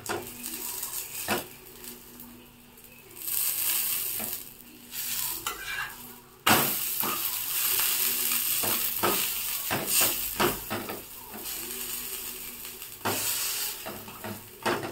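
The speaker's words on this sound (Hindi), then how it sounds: "ऐसे हल्का हाथ दबा दबा के चारों तरफ इसका फ्राई कर लेना" A paneer paratha sizzles steadily in a hot pan while it is pressed and turned, with intermittent scraping and utensil clatter against the pan, close up and without speech.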